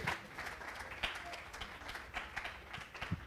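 A small audience at a singles and married Q&A session claps lightly and unevenly, with scattered sharp hand claps that come and go at a low level.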